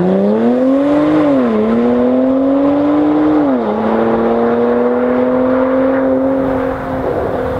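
A Porsche Macan Turbo's 3.6-litre twin-turbo V6 hums loudly and steadily, its pitch dipping and climbing twice as it revs, then holding a smooth, powerful drone.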